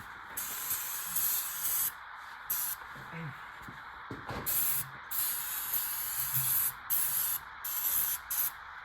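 Ether starting fluid sprayed into the intake of a GMC K10 diesel whose glow plugs are not helping it start, loud close hissing bursts in an irregular rhythm with brief gaps, faint low rumbles beneath.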